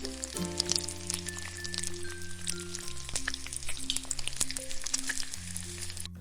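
Chopped garlic frying in hot oil in a pan, a close, continuous sizzle full of fine crackling pops over a low steady hum.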